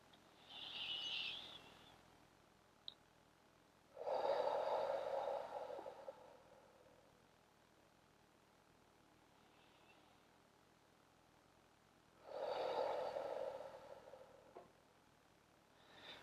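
Deep breathing during a yoga session: slow, soft breaths in and out, each drawn-out airy sound lasting a couple of seconds and separated by long quiet pauses, faint and close.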